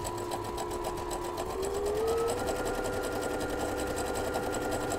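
A sewing machine fitted with a braiding foot runs steadily and close, its rapid needle stroke forming an even mechanical chatter that shifts slightly in pitch midway through.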